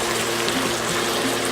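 Roasted chicken pan drippings, skimmed of fat, are poured into a chicken pot pie filling in a short, steady, close stream of liquid.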